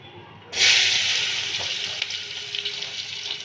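Onion pieces hit hot oil with a sudden loud sizzle, a burst of frying that settles into steady, crackling hiss with small pops, close and alone.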